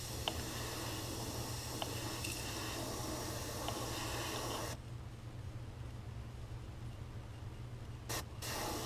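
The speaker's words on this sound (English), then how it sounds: "Barely pulling the trigger back to get the paint to come out." Airbrush lightly spraying paint onto a crankbait lure, a soft steady hiss that cuts off midway, followed by quieter air and a couple of brief spurts, close and faint.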